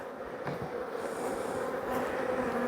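A dense, continuous hum of many honey bees at an autumn hive carries steadily throughout, with an occasional closer bee droning past.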